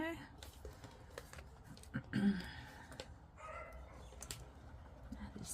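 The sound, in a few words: dogs barking in the house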